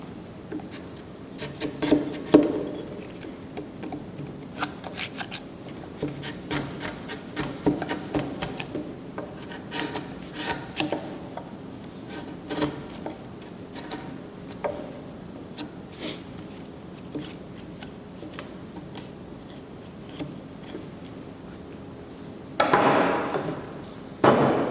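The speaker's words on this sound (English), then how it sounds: "a good sharp chisel just allows you to do it by hand" A sharp hand chisel is pushed through wood without a mallet, giving quiet, irregular scraping and paring strokes with small knocks, close and alone, and a brief louder rasp near the end.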